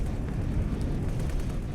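Heavy ship cannons open fire in the space game X4: Tides of Avarice, a dense, continuous low rumble of booming shots rolling together for under two seconds, loud and steady with no talk over it.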